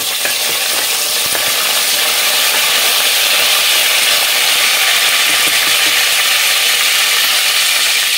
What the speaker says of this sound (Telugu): కరివేపాకు కూడా వేసేసుకొని ఒక్కసారి కలిపేసేసుకుందాం.